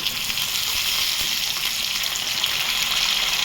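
Green peas tipped into a pan of frying cauliflower, a loud, continuous hiss and sizzle of hot oil heard up close, steady throughout with no speech.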